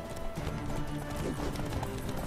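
Horse hooves clip-clop at a steady gallop during a mounted fight in a video game, fairly quiet, with a brief whinny mixed in under game sounds.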